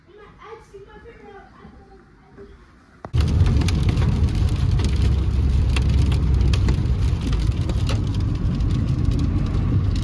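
Hail begins abruptly after a few quiet seconds, switching to a loud, dense, continuous patter and clatter on surfaces that fills the rest of the clip.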